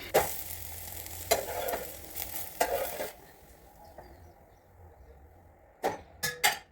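Moong and rice uttapam cooking in a pan, with soft sizzling and several sharp spatula scrapes and taps against the pan as it is flipped; quiet stretches between the strikes and no talking.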